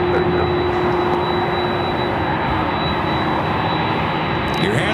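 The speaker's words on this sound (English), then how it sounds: "You're hearing that Delta 767-300ER heading to Honolulu" A Delta 767-300ER jet airliner at LAX produces a continuous loud, steady roar and whine of jet engines, broad and even throughout.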